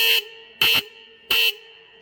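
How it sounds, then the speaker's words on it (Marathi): A vehicle horn, fitted on a lighting-system training rig and worked from a nearby horn button, blares in three steady bursts of roughly a quarter second each, evenly spaced, loud and close with nothing else around them. "हा हॉर्न कसा वाजतो"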